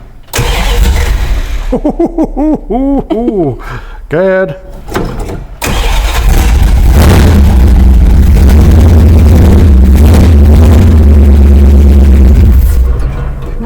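Plymouth Barracuda V8 with open headers cranks and fires, then roars into loud, rough revving that dominates the clip, with people talking briefly over the starter whine and between revs.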